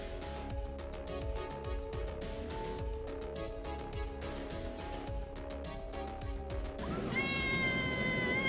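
A house cat meows near the end, a drawn-out rising call that rises above a steady, busy background of electronic tones and clicks, fairly close and clear.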